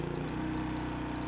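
A Philking 4200 inverter silent generator drones steadily at close range, a continuous even engine hum with no voices over it.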